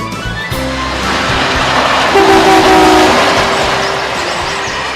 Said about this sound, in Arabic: عجلات القطار